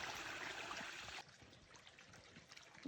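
A small stream trickles and burbles softly under a footbridge in a hiking park, louder at first, then quieter and steady, with no voices.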